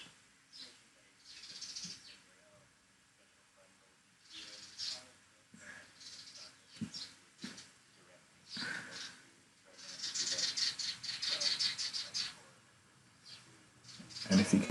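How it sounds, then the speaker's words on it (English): Faint birdsong chirps and tweets come and go in an outdoor garden setting, soft and somewhat distant, with scattered rustling between calls. "if you can hear any nature in the background, that's because indeed I'm working from the garden today."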